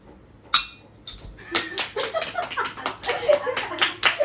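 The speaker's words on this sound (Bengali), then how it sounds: "ও হাততালি হাততালি, সুন্দর হয়েছে" Small hands clapping at home, a sharp clap first, then a run of quick uneven claps, close and fairly soft, with adult voices talking and cheering between them.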